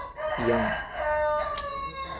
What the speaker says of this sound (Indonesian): ada ayam bunyi ya di sini ya